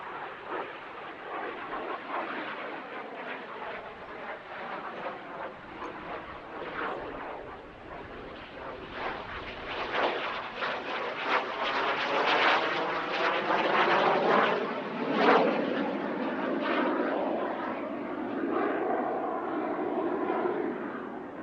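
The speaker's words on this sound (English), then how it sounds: "This beautiful Jet Provost T3A stood in for an aircraft that couldn't make it to the show" A Jet Provost T3A jet trainer flies at an airshow with a rising and falling turbine roar, growing louder as it passes closer and staying strong through the second half, with no talk.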